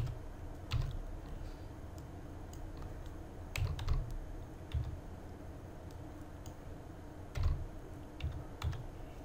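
RGB colour values being typed on a computer keyboard while creating a SketchUp paint material; sparse, close key clicks and taps in small clusters over a quiet room hum, no talk.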